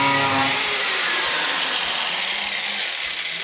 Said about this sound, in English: we busted out the angle grinder to attempt to grind the head off of the bolt